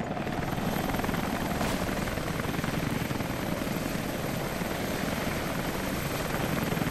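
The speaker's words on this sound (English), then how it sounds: "There's the chopper." A helicopter in Rise of the Tomb Raider drones with a steady, dense rotor roar, loud and continuous with no voices.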